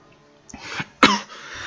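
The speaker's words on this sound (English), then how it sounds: "Sorry, I'm still coughing a bit." A person coughs twice in quick succession, close and sharp, with a short breath before.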